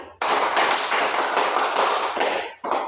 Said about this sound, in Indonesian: Kita beri aplaus 5 kali.